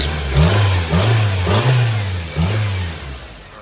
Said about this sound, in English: I put a couple nice little revs